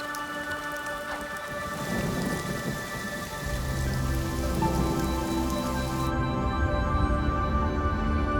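Heavy wet-season rain in Zambia, a loud dense steady downpour hissing throughout, with a deep rolling rumble of thunder building partway through and no voices.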